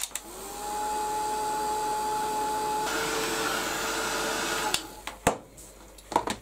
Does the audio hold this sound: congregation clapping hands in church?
no